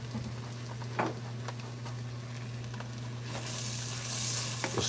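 Fresh vegetables sizzle in a pan of Jamaican curry lobster, a steady close hiss over a low hum with a few stirring scrapes, the frying swelling louder near the end.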